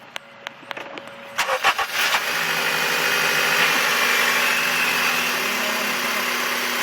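A 2001 Honda Civic LX engine cranks with a few clicks and bursts, then catches and settles into a steady, loud running drone during a Seafoam intake treatment.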